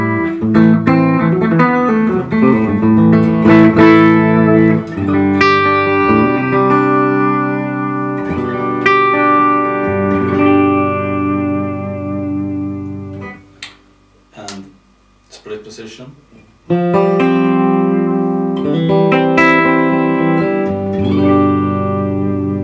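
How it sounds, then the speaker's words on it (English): A PRS 25th Anniversary Swamp Ash Narrowfield Special electric guitar plays a fat, clean tone, with loud picked notes and chords ringing out, brief pauses and muted strums partway through, and no talking. "So here it's sort of a fatter, kind of almost P90-ish kind of clean tone."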